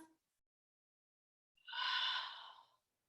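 A single soft exhale during a yoga forward fold, a short breathy sigh lasting about a second after a brief quiet pause, close and fairly faint.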